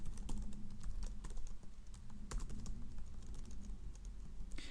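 Typing on a computer keyboard while writing script code, a rapid close stream of clicking keystrokes with brief pauses.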